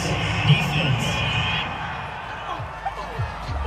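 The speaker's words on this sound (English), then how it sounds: "This home crowd, they're happy with that call." A home stadium crowd cheers in Madden NFL 22 during a Carolina Panthers at Miami Dolphins game, a steady broad roar of distant voices that carries through the whole clip with a few louder swells.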